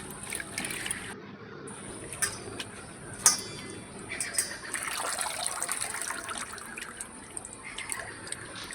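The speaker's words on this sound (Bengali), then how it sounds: "আবারও জল দিয়ে শাকগুলো ভালো করে ধুয়ে নিচ্ছি।" Chopped ghatkol leaves and stems are washed in water in a village kitchen, with soft splashing, sloshing and scattered light clicks and knocks, fairly quiet and close, with no talk.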